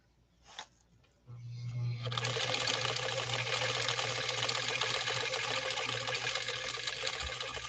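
After a click and a short pause, a sewing machine starts sewing a decorative stitch pattern on cam C1, a steady close mechanical whir with a low hum that runs without a break and with no talking.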